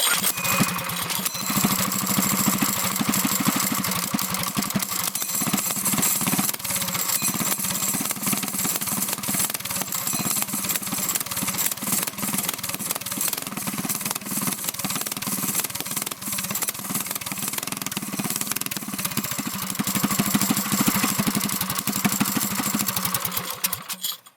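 A Predator 212 small engine fitted with a stage 1 header and no muffler runs loud and steady, a harsh, rapid, unbroken exhaust rattle up close for the whole stretch, with no talking.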